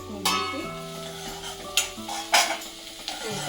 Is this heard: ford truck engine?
no